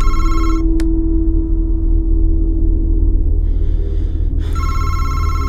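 A telephone rings inside the horror video game MADiSON, loud repeated electronic ring bursts with a gap of near silence between them over a low humming room tone.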